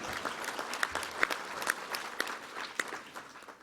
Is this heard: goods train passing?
no